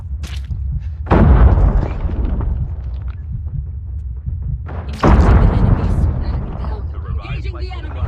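Gunfire and heavy booms in the mobile game Call of Duty Mobile, two loud blasts spaced a few seconds apart with rumbling decay, set against game audio as a voice talks throughout.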